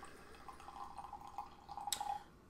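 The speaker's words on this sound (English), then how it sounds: "it looks like a double IPA as I pour it" Double IPA beer pours into a glass with a quiet, close trickling and fizzing, the liquid stream building slightly with a brief clink near the end.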